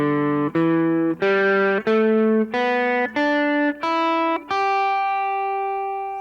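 An electric guitar plays scale pattern 1 ascending: eight evenly spaced, sustained distorted notes climbing step by step, the last one left ringing and fading; close and alone.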